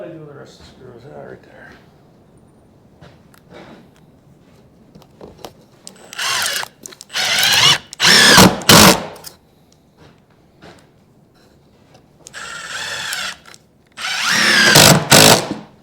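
A power drill drives screws into a woodshop bench in several loud, whining bursts of a second or two each, separated by quieter stretches with talking in between.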